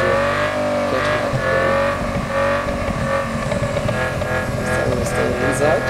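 Racing video game car engine, MODIplay, revving steadily and loudly throughout with layered engine tones and brief tire noise, no talk over it.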